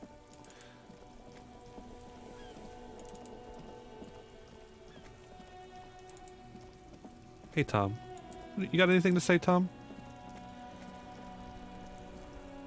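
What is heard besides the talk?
rain falling in a video game (Detective)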